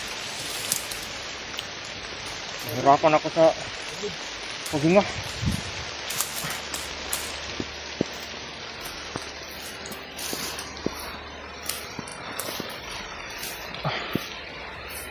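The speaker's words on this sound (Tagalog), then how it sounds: "Lakas ng ulan." Steady rain patters and hisses throughout, with voices talking briefly over it and scattered knocks and drips.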